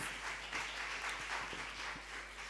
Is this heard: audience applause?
yes